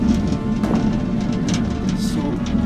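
Water falling and dripping inside a coal mine roughly 700 feet underground, heard as a steady, even rushing hiss with a low rumble that fills the whole stretch without pause.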